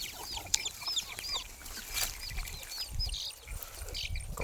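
Chickens cluck steadily nearby while high peeping chicks chirp throughout, a busy mix of poultry sounds with no talking.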